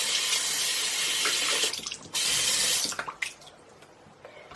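Running tap water pouring into a sink while makeup sponges are wetted, a loud steady rush that briefly drops and resumes, then breaks into uneven splashing as the flow is interrupted.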